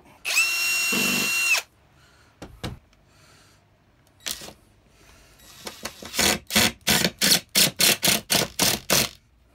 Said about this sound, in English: we'll glue and screw it from the other side